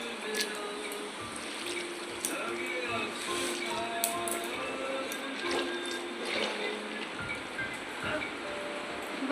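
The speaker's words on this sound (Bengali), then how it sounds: "গরম জলটা পাইল করছি কারণ উপরের নোংরাটা খুব তাড়াতাড়ি ময়লাটা বেরিয়ে যাবে।" Hot water splashes and trickles over laundry soaking by hand, a fairly faint uneven pouring with intermittent drips and knocks, and a voice speaks over it.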